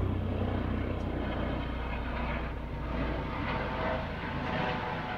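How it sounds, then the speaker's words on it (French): A helicopter passes overhead, heard as a continuous low rumble and whir of rotor and engine sound that swells slightly and holds for several seconds, no voices. "oh, il y a un hélicoptère"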